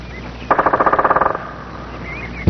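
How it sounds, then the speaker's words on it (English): A woodpecker drums on a tree in springtime woodland: one rapid, even burst of about fifteen hard knocks lasting under a second, loud and close, with faint birdsong around it. "A strange hammering comes from the treetops."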